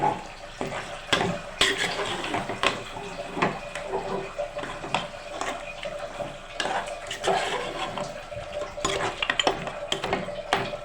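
Mutton pieces being stirred in a cooking pot, repeated scraping and clinking of a spoon against the metal pot in an irregular rhythm, close and fairly loud, with no one speaking.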